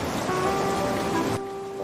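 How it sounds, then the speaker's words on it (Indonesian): Heavy rain pours in a dense, steady hiss with a faint tonal hum underneath, then drops abruptly quieter near the end. "Mana hujannya deras banget lagi."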